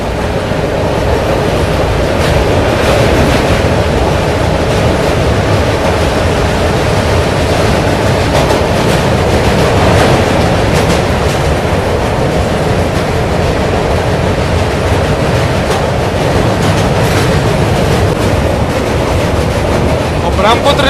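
A train rolling across the Saraighat rail-cum-road bridge over the Brahmaputra, heard from on board as a loud, continuous rumble and rattle of wheels and carriages with no break.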